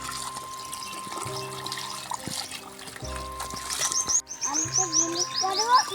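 Water trickles and pours onto garden plants, a steady liquid stream under birdsong and background voices, growing slightly louder toward the end.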